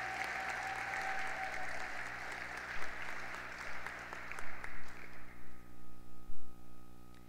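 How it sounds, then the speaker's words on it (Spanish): Applause at a 2020 high school graduation ceremony at Colegio Notre Dame for a graduating student, a broad steady wash of clapping for about five seconds that then thins out into scattered, fading claps. "Un gran aplauso entonces para Franco"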